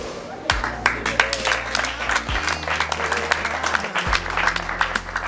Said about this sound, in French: Je veux que nous acclamions.